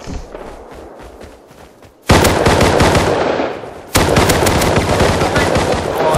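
Rapid automatic gunfire from the video game Rust, dense bursts of shots that cut in loudly around two seconds and again near four seconds, with no talk.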